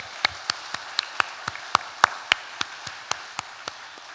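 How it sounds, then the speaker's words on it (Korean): A church congregation at a Sunday worship service claps together in a steady rhythm, about four sharp claps a second, loud and even against a quiet room, with no voices. "박수를 크게 많이 치시는데요."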